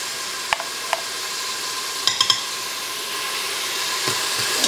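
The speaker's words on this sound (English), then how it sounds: "We'll let this saute for a bit." Minced garlic and onions sauté in an Instant Pot for corned beef hash, a constant close sizzle with a few sharp utensil taps and scrapes against the pot.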